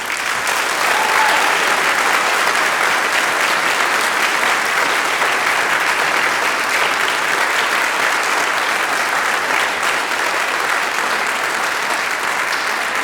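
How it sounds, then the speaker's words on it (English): Dense, sustained applause fills a hall as a community orchestra's audience claps without pause for the full length, loud and even with no distinct individual claps standing out and no speech. "Can we all give them one more round of applause?"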